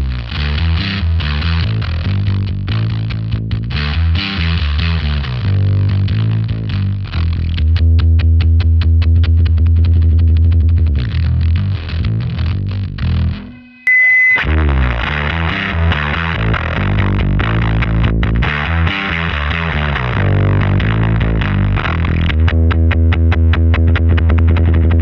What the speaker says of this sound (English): It squeals. I made a bass amp squeal.